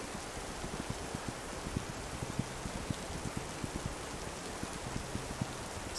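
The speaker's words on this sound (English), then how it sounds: "Oh, rain." Steady rain falls in the video game This Land Is My Land, a continuous hiss with scattered droplet taps, moderately quiet and with no voices.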